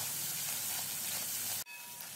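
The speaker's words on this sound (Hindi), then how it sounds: "2 मिनट तक लहसुन, सूखे नारियल और अदरक को अच्छे से भून लिया है।" Ground dry coconut, ginger and garlic fry in a pan over a low flame, a steady hissing sizzle that cuts off abruptly near the end before a fainter sizzle resumes, no voices.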